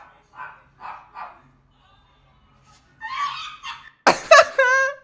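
A small dog yips a few times, then barks sharply and loudly up close, with quiet pauses between the bursts.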